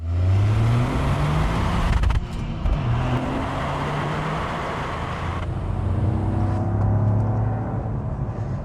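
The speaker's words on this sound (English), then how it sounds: "Gee, that does sound rowdy. It does, doesn't it? It's a great engine, though." Toyota GR Yaris 2020 engine revving up and down in a few swelling pulls, a loud, rough engine note heard close by with no speech over it.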